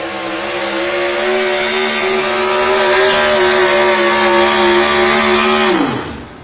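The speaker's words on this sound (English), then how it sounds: "Down here with the four-wheel drive trucks, I'm going to let this truck go." A four-wheel drive pulling truck launches down the track at a tractor and truck pull, its engine roaring loud and steady with a rising high-pitched whine for about six seconds before cutting off abruptly.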